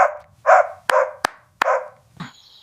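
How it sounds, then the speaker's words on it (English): A dog barks about four times in short, loud bursts spaced roughly half a second apart, with sharp clicks between them and no voices. "Thanks for scaring that bad dog."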